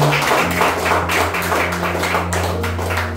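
Congregation at a church worship service clapping loudly, a dense wash of overlapping claps that sounds near and full, with a steady low hum underneath and no talk.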